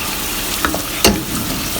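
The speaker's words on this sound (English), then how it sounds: "So just saute the peas a bit and then you can add the rice." Peas and rice sautéing in a pan with curd, a steady soft sizzle of frying with a couple of brief stirring scrapes and clinks, close and fairly loud, no talking.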